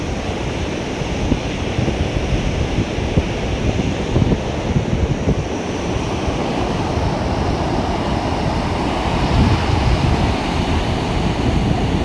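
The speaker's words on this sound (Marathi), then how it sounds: "म्हणजे लाट आली" Ocean waves surge and break on the shore of a Konkan beach at Gavkhadi, a steady loud roar of surf mixed with wind noise on the microphone throughout, with no voices.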